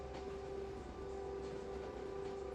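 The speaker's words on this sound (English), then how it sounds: "as the train rolls onwards" A train rolls steadily along the tracks, giving a continuous low rumble with a sustained tonal whine running over it, heard from inside at moderate volume with no talking.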